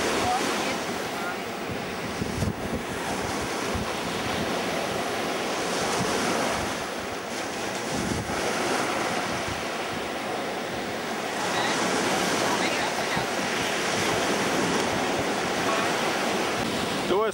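Sea waves wash steadily onto the shore with wind buffeting the microphone, a continuous loud roar of surf that swells and recedes throughout, with no voices standing out.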